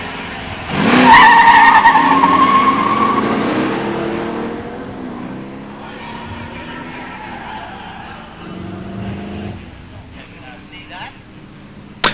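Drag race between a 1969 Trans Am with Ram Air IV and a four-speed and a 1987 Mustang 302 with a five-speed: a loud burst of engines and tire squeal at launch, fading as the cars pull away, with announcer talk over it.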